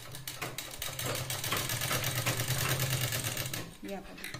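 A sewing machine runs a slanted stitch along a blouse shoulder seam, its steady close whirr lasting a few seconds before stopping, while someone speaks briefly near the end.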